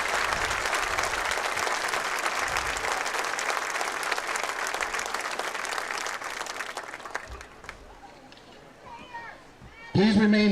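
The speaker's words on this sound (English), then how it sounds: "everybody give them a round of applause to honor their service to our country" A crowd in the stands at a high school football game between Wooster and West Holmes applauds veterans, sustained clapping and cheering that fades out, followed by children's voices and someone speaking near the end.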